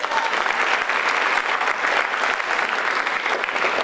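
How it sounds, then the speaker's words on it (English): A crowd at a high school community scholarship awards evening gives a full, even round of applause, loud and sustained for the whole stretch. "I'd like to take a moment for a round of applause for Ms. Julioka"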